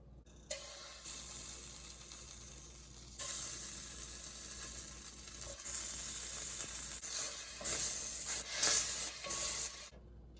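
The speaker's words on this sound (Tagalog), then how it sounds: "Sa mainit na lutuan, maglagay ng 3 kutsarang butter." Three spoonfuls of butter sizzle in a hot cooking pan for beef kaldereta, a close, steady hiss that grows louder in stages before cutting off near the end.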